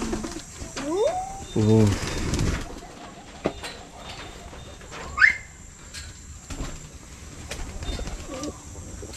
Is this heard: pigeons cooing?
yes